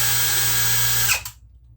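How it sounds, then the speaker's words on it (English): A power drill runs in standard drill mode, boring into a masonry wall with a steady, loud whine that holds for about a second before it spins down and stops, leaving near-silence. "Standard drill function like this."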